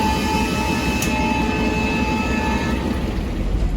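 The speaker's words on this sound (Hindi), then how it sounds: "तो ये हमारे ट्रेन को हरी झंडी मिल चुकी है और हमारा सफ़र शुरू हो चुका है।" Darjeeling toy train pulling away at the start of its journey, a steady loud rumble of the carriages rolling on the rails with a sustained tonal hum and a brief high squeal near the start, no voices.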